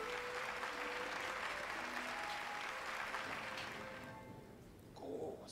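A game crowd in Hollow Knight applauds in a steady, dense wash of clapping that holds for several seconds, then thins and fades toward the end, with a tonal hum underneath.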